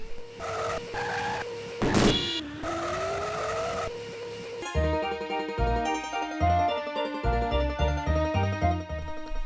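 Tiny racing cars in Micro Machines whine at a steady pitch with a short screech partway through, then a bouncy music track takes over for the rest.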